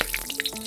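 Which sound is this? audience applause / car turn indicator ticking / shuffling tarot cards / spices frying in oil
spices frying in oil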